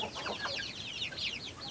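Chicks cluck and peep continuously at close range around a feeder, a busy overlapping chatter of birds with no talking.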